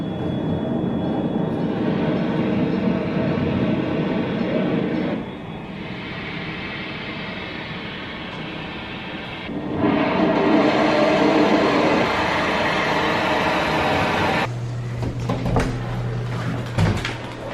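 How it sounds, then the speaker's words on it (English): An aerospike engine being test-fired outdoors gives a loud, steady broadband roar that holds for several seconds at a time, with abrupt cuts and level shifts between takes and no voices. "Here's the video of this engine being tested"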